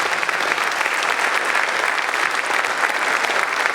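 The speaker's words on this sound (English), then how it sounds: "How about a round of applause for these two?" A forum audience gives steady, dense applause for two mayoral candidates in Oxnard, the clapping loud and continuous from start to finish.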